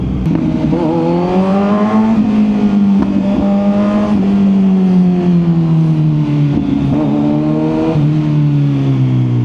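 A 2025 Kawasaki Z900 SE motorcycle engine revs loud and close, its pitch rising and falling through several smooth throttle sweeps with a steady, continuous drone throughout.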